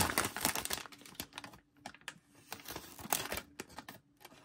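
A Bulat hunting knife slices through material in quick, sharp, scratchy strokes, close and fairly loud, repeating several times with short pauses between cuts.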